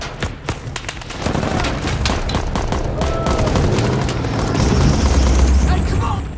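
Gunfire and explosions in a war film scene about a sniper squad: a dense barrage of rapid shots and heavy booms, loud and continuous, with a low rumble building toward the end.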